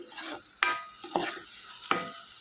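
Apple pieces for kheer cook in a pan over a medium flame, with a soft sizzle under three sharp scraping stirs of a spatula against the pan.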